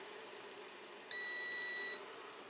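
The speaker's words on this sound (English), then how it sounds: "the multimeter will beep if there's contact when I close the switch" A multimeter gives a single sharp continuity beep, a clean high tone held for just under a second when a switch closes. It sounds close against a quiet background, preceded by a faint click.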